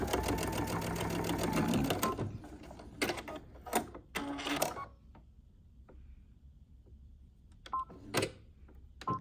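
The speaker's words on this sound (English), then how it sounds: "help your machine to guide this fabric through, making sure that this fold and everything is all tucked in here, and just close up that opening" A sewing machine stitches a pot holder's opening closed, whirring in a steady run at first and then in short stop-start bursts separated by quiet pauses.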